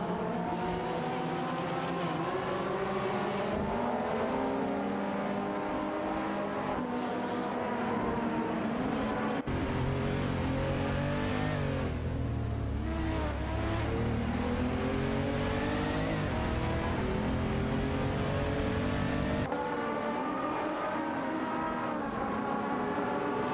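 Race car engines in a racing video game drone continuously, layered whines rising and falling in pitch as cars accelerate and shift, loud and steady throughout with no talking.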